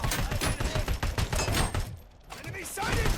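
Rapid gunfire rattles in a RoboCop video game, bursts of shots crackling close and loud, briefly dropping away before resuming with game sounds.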